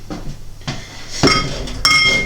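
Glassware clinks as a beer glass is set out for pouring from a Philips Perfect Draft home beer tap, with a few sharp chinks and knocks close by and a brighter ringing clink near the end.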